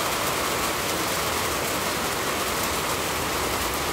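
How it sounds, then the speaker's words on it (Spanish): Heavy rain makes a loud, dense, unbroken hiss that fills the whole stretch evenly, with no voices over it. "la lluvia está haciendo mucho ruido"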